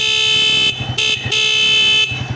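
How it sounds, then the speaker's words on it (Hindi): A Honda CG125 motorcycle horn sounds in a few loud, steady toots separated by short gaps, with the engine idling underneath. "और हॉर्न भी सुना देता हूँ।"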